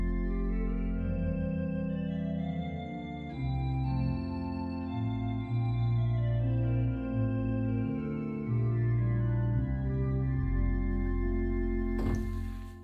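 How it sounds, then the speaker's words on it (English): The Terzflöte stop of a Bückeburg organ sampleset plays sustained baroque chords and a moving melodic line, steady and full throughout with no talking, ending in a brief noisy burst. "Then there's the Terzflöte, which sounds similar to the other ones."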